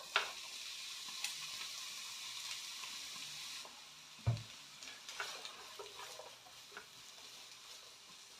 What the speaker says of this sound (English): So in the first pan, we've got hot oil. I'm going to add in the onions.